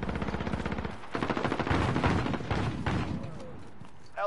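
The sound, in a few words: shotgun fire in a video game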